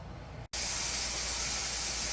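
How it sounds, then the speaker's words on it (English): Steam vents steadily from a home canner processing jars of bruschetta, a loud, constant hiss that starts abruptly after a brief silent break and continues unbroken. "Our steam is coming out."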